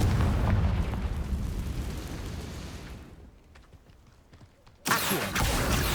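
The Confringo blasting spell in Hogwarts Legacy, a roaring fiery rumble that fades into quieter crackles before a sudden loud burst hits near the end.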